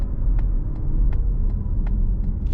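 A 2022 Mazda MX-30 electric SUV drives through downtown St. Petersburg, giving a steady, loud low road rumble with faint regular ticks repeating about every third of a second, and no talk.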